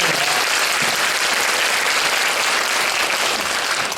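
A room full of audience members at a school education concert claps continuously, a thick, even wash of applause that holds at a steady loudness with no speech on top.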